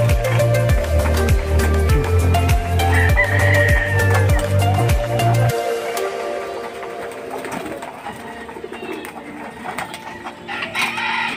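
Pigeons feeding in a loft, with soft bird calls over a steady pulsing low drone at first, then scattered cooing and pecking sounds in a quieter stretch; no talk.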